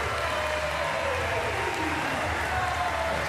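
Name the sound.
crowd applauding para table tennis players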